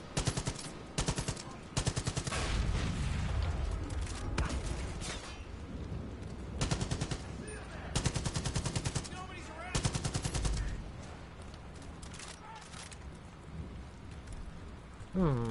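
Shotgun loaded with fire ammo in the video game Far Cry 5, firing in rapid loud bursts of blasts separated by short gaps, with a crackling, rain-like roar underneath.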